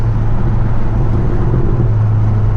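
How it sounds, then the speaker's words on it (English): A 2018 Hyundai Elantra Sport's turbocharged engine and exhaust drone loudly and steadily at close range in sport mode, a deep continuous rumble. "if you drop the gear while you're on sport, the exhaust obviously gets louder"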